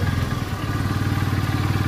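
A Honda Supremo 150 motorcycle engine, just fitted with a new ignition switch, runs steadily at close range with a low throbbing idle and light mechanical clatter, no one talking.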